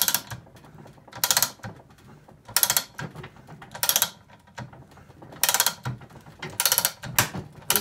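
A Slug Buster knockout punch is drawn through a metal electrical box with a ratchet, giving repeated bursts of sharp clicking ratchet strokes separated by short quiet pauses, close and fairly loud.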